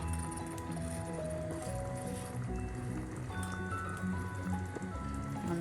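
Chicken biryani mixture being stirred in a pot, giving soft wet squishing and slushy scraping sounds throughout, steady and fairly close, with faint tonal background sound underneath.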